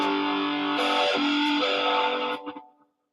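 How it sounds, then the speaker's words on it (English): A sustained, heavily distorted electric guitar chord, wah pedal on, rings loudly, shifts once, then fades out over a few stuttering decays. "oh, I had it on distortion too."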